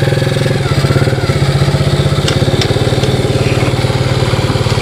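A Yamaha Moto4 ATV engine runs loud and close, a rough, steady mid-pitched putter with a fast regular pulse and slight revving throughout.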